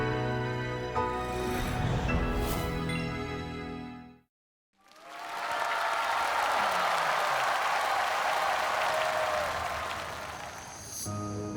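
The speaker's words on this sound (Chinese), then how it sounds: "让我们掌声有请盲盒歌手登场。" A studio audience at a televised singing competition breaks into sustained, dense applause to welcome a mystery singer on stage, following a burst of music and a brief silence.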